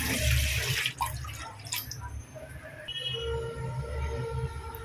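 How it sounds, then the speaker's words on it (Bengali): Water splashes into a kadai (wok) while cooking a Dhaka-style shukto broth, a steady near pouring rush that stays level throughout, with a faint ringing clink partway through. "প্রথমে কড়াইতে আমি জল দিয়ে দিলাম"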